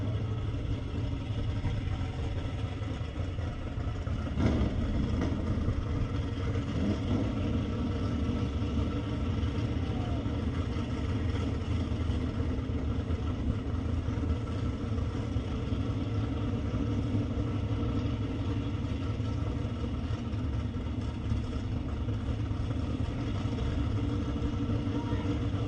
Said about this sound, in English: Here comes a single turbo machine of Bear Cronin.